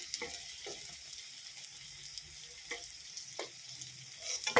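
Coriander leaf fritters fry quietly in hot oil, a soft continuous crackle punctuated by a few sharp pops and spatters, growing louder near the end.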